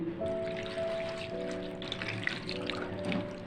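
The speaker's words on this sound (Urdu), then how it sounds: "2 کپ ہم نے اس میں ڈالنا ہے پانی" Two cups of water are poured into a pot for a lemon and green chili vinegar pickle, a steady close trickle and splash that continues throughout over a low background hum.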